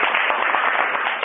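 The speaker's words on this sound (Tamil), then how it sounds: "சார் ரொம்ப கைத்தட்டல் கொடுங்க" A group claps in a brief burst at the final-day feedback session of a Red Cross first aid training, an even patter of many hands.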